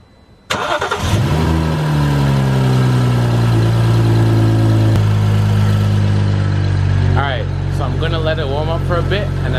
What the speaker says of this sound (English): So now for the startup, so you guys can see how exactly how it sounds.